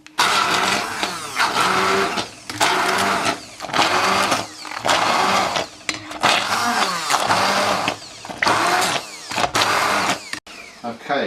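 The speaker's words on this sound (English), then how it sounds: "If you have a hand blender, like so, you can do that straight in the pan." Hand blender whirring as it purées a thick sauce straight in the pan, loud buzzing bursts repeating in a steady on-off rhythm close up, with brief pauses between pulses.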